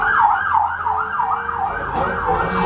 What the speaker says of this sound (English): a police car drove past.